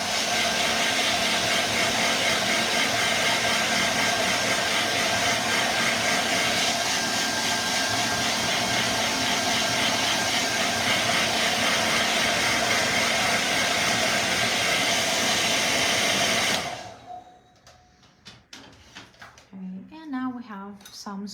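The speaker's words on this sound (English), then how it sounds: "let's use our hair dryer once more." A hair dryer blows loud, steady air for about seventeen seconds to dry a countryside landscape watercolor painting, then switches off abruptly, leaving quiet room sounds and a voice speaking.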